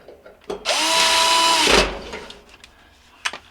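Power driver drives a screw into a dryer part during a thermal fuse repair on an Admiral dryer, one loud whirring burst of about a second close by, framed by light handling clicks.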